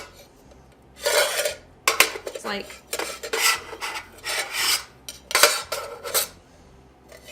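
Metal pots and a small kettle from a motorcycle camping cook set clank and scrape together in irregular bursts, close by, with a brief voice at one point.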